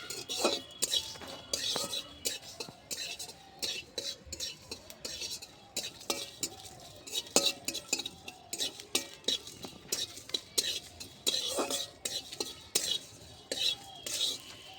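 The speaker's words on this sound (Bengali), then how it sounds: "জিরে ধনেটা একটু ভেজে নেব" Cumin and coriander seeds dry-roasting in a pan over a clay stove, heard as a steady dry rustle and scrape with frequent light metallic clinks of a spoon against the pan and a faint crackle throughout.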